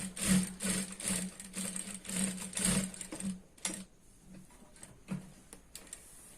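A sewing machine stitches a seam on a dhoti salwar, running in rapid bursts with brief pauses, then slowing to a few short separate stitches near the end.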